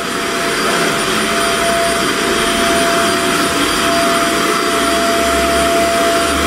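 A vacuum cleaner runs in a heated pool area, giving off a loud, steady whine and rushing drone with a constant pitch that holds unbroken for several seconds with no talk.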